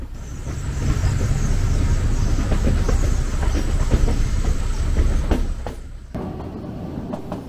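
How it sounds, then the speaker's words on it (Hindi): A Kangra Valley Railway train rolls along the tracks with a loud, steady rumble and rattling clatter from nearby, easing off slightly toward the end. "और इसके आते ही हमारी ट्रेन आगे चल पड़ी।"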